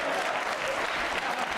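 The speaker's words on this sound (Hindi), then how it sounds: "तालियां बजाओ रे, जोरदार बजाओ रे" Steady, dense audience applause at a quiz show, close and loud without a break.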